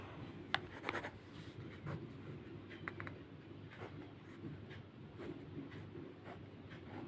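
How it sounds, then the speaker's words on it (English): Pen or pencil scratching across notebook paper while two triangles are drawn by hand, a soft continuous rubbing with a few sharp ticks, close and quiet over a low room hum, no talking. "I am drawing two triangles"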